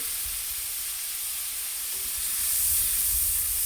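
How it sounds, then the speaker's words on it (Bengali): Onion and cumin hit hot oil for a fish curry and sizzle loudly and steadily, a dense close hiss that swells slightly toward the end, with no talking. "আমি এবার তেলের সঙ্গে এটা দিয়ে দিচ্ছি যে মশলাটা বেঁচে রেখেছিলাম এটা দিয়ে দিলাম মানে পেঁয়াজ আর জিরে"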